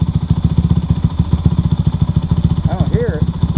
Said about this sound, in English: My bike idles now.